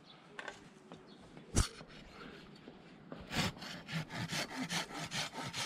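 A hand saw cuts through a weeping maple branch during spring pruning, starting with a few faint scrapes and a knock, then settling into steady, rhythmic back-and-forth strokes that grow louder near the end.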